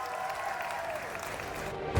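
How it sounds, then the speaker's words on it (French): Audience applause at a hip-hop dance competition semi-final, a steady wash of clapping that holds evenly throughout at moderate level, with no voices on top. "Applaudissez-vous!"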